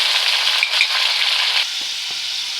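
Browned onions sizzle and fry steadily in hot oil as ginger garlic paste goes in, a dense, continuous crackle close by that eases slightly toward the end with a couple of soft stirring knocks.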